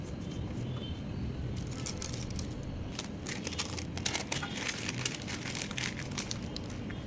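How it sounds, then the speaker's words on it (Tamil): Butter paper crinkles and rustles as it is pressed into a baking tray for an eggless plum cake, with quiet handling at first, then denser close crackling bursts in the second half. "நான் பட்டர் பேப்பர் போட்டுடுறேன்."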